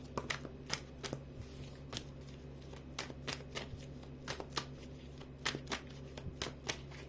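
Playing cards being shuffled and riffled close up, a series of quick crisp flicks and slaps in irregular bursts, with no talking.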